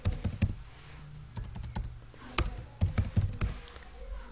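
Someone types on a computer keyboard, entering a name into a Word template: a close, uneven run of quick key taps with short pauses and a few harder strokes, no voices.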